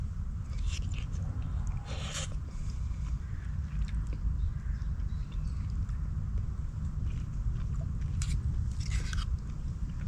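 Crunchy walnut coconut curry being eaten on a backpacking trip, close chewing with repeated crisp bites and crunches over steady low outdoor noise.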